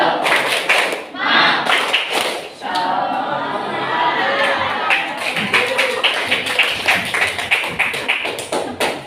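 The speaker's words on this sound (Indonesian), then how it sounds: "Ayo, tepuk semangat" A class of students performs the rhythmic tepuk semangat clapping cheer, loud group hand claps in patterned bursts with a short pause, mixed with children's chanting voices throughout.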